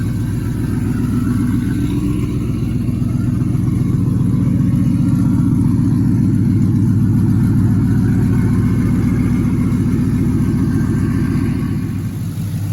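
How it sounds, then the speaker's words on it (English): An LS-swapped Chevrolet S10 truck with a TBSS intake swap idles high while still cold: a loud, close, steady low rumble with an even pulsing beat and no talk throughout. "It's gonna idle high for a few minutes, but once it warms up and idles down"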